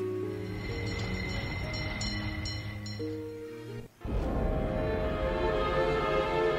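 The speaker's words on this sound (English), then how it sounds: "Okay, now onto the tram." Tram ride in the Vampire Legends video game, a steady rumbling rail hum with a tonal drone and faint clinking, briefly cut off before resuming at a similar level; no talking.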